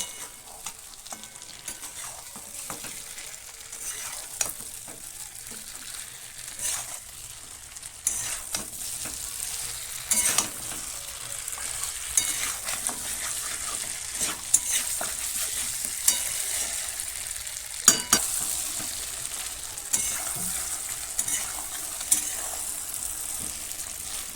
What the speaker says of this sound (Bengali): ভেজে রাখা যে তেলটা ছিল সেটা আমি দিয়ে দিলাম দিয়ে আবারও ভালো করে মিশিয়ে নেব